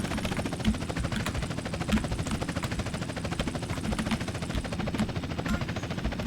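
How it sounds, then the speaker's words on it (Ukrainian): Helicopter in the video game GTA San Andreas during a race, with a steady dense rotor and engine drone running continuously at even loudness throughout. "Так, ми тепер на гелікоптері."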